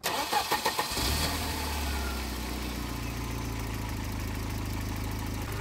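A car engine is cranked by its starter motor: a few quick rhythmic chugs, then it catches and settles into a steady, loud, close idle that runs without a break.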